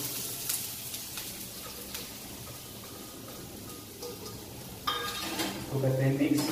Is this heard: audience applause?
no